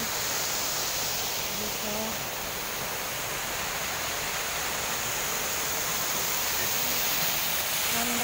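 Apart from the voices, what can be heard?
waterfall at Singapore Botanic Gardens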